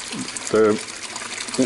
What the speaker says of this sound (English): the PVC on the ends of the outlets is just to stop the water making a noise